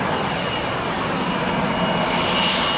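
Airplanes on the runway at O'Hare airport produce a steady, loud roar of aircraft engines, a continuous broad rumble with no voices over it.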